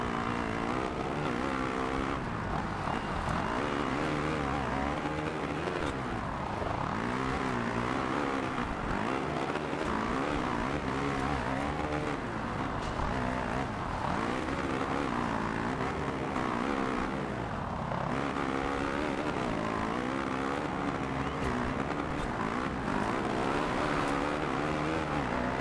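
A Suzuki motocross bike races in the MXGP 2 video game, its engine droning and revving with rising and falling pitch sweeps, loud and continuous throughout with other bikes blending into the roar.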